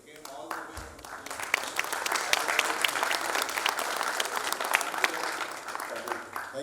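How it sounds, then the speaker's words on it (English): A large audience applauds steadily, with dense overlapping claps that hold at full strength for several seconds. "Special thanks to them and big round of applause"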